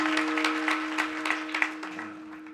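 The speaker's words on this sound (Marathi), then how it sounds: "टाळ्या वाजवा त्याच्यासाठी" A crowd at a village kirtan gathering claps for a singer, scattered moderate clapping over a steady sustained drone tone, fading toward the end.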